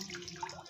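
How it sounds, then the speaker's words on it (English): Water runs from a tap over water leaf greens being rinsed clean of sand, a steady close splashing stream with no speech. "So right now what I'm doing is washing the water leaf"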